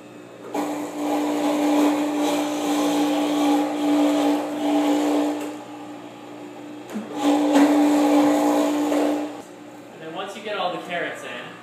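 A Norwalk juicer grinding carrots, a loud whining motor hum with a sustained tonal drone in two long bursts separated by a pause, followed by a person talking.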